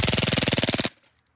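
USHOT TP22 gas airsoft pistol firing full auto, a rapid burst of about twenty evenly spaced sharp cracks over under a second, close and loud, then stopping abruptly into near silence.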